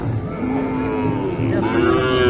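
A bull or cow at a busy cattle market lets out a loud, drawn-out moo that holds and rises slightly, close by, with faint crowd murmur beneath.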